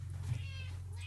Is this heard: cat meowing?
yes